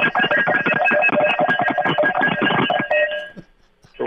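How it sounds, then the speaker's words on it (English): A Mississippi State cowbell rung rapidly and continuously for about three seconds, a loud, bright metallic clanging that stops abruptly and fades out. "It's a cowbell."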